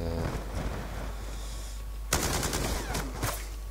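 Light machine gun fire in the video game Black Ops 2: a few distant bursts of rapid shots crackle over a steady background hum, with one louder burst near the end.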